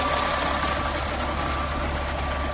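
A 2000 Freightliner FL70 truck's diesel engine idles steadily nearby, a constant low rumble with a slight knocking rhythm and no voices.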